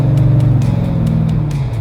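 A Monte Carlo Aerocoupe's engine revving, a loud, close, throaty rumble with a pulsing low-frequency exhaust note and a slight rise in pitch over a short burst.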